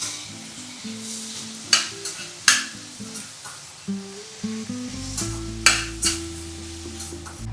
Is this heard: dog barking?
no